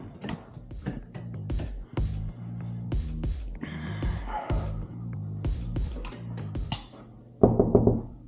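Several sharp knocks on a door sound in short irregular bursts during a home inspection, close and fairly loud, with a clatter near the end.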